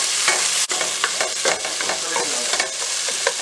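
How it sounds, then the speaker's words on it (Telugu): Cooked tomatoes being mashed and stirred into a paste in a hot pan for kalyana rasam, giving a steady close sizzle with soft scraping and squishing strokes throughout, no voices. "టమాటాలు తర్వాత మ్యాష్ చేసుకోవాలి కొంచెం పేస్ట్గా."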